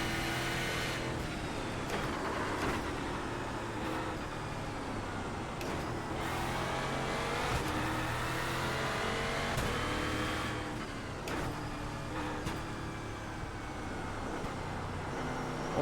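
Sim-racing V8 stock car from the Euro NASCAR series in iRacing, its engine droning steadily and continuously as it laps, with revs rising and falling through gear changes and corners, no talk over it.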